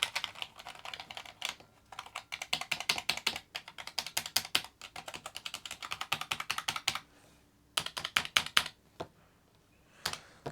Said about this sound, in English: I think we've got some dirty keys. They do work eventually if you hit them long enough.